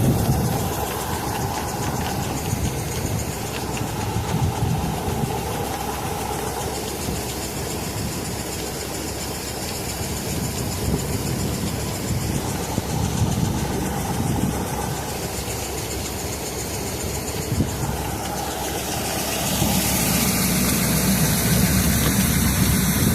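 A snow auger's small engine runs steadily while the auger churns through packed snow and ice. The close, continuous drone holds for the whole stretch and swells slightly near the end.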